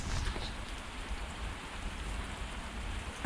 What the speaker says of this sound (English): So while I'm stood here in the rain